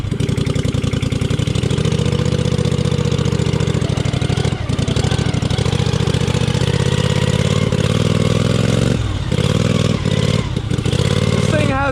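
A homemade race mower engine revs hard and steadily while being ridden, a loud, buzzing, motorcycle-like drone with brief dips as the throttle shifts, close and continuous throughout.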